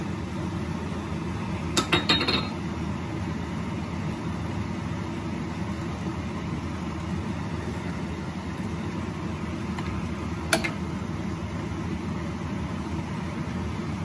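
Dinuguan simmers in a cooking pot with kamyas and fish sauce while being stirred, giving a steady low rumbling hiss throughout, broken by two brief metallic clinks of a spoon against the pot.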